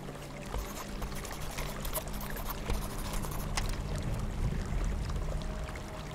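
Flowing water at a water source in the Die Young video game, a steady, moderately quiet trickling and pouring wash that continues unbroken with no voices.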